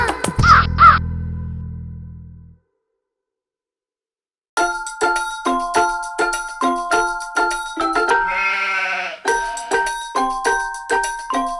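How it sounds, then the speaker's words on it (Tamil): A crow's harsh caw sounds at the start of a Tamil children's rhyme and is followed by a pause. A bright, bell-like plucked melody then plays in a steady beat. "கனத்த மூக்கு காக்கா, கழுத்த நீட்டு சோக்கா."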